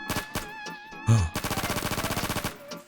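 Rapid automatic gunfire from a Roblox video game, a fast even burst of about fifteen shots after a few scattered single shots, loud and close.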